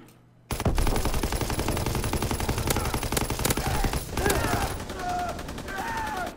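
Heavy, sustained automatic gunfire from the video game War, dense rapid bursts with a few louder single shots, continuous and close throughout after a brief quiet start.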